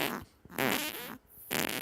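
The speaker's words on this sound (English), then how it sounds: "And that's him still farting there, is what you're saying." Several short, snappy farts in quick succession, loud and close, with brief pauses between bursts and no talking over them.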